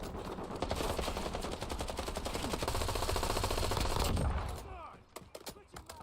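Rapid automatic gunfire in the battle royale shooter Call of Duty: Warzone, dense close bursts of shots rattling for several seconds before cutting to a few scattered single shots, with faint talk in the background.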